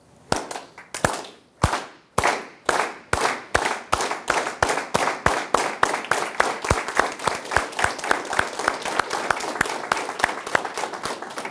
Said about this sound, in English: they're stomping their feet and clapping in unity